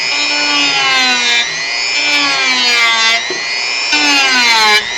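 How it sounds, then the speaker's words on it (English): A Dremel rotary tool shaping a model part, a loud close whine that rises and falls in pitch as it bites into the piece and eases off, repeating several times without a break. "Almost got away from using the Dremel for a second."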